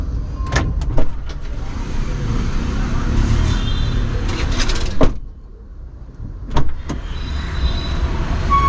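A car being locked while parked on a busy market street, sharp clicks and a short electric whir cutting through steady traffic noise around it.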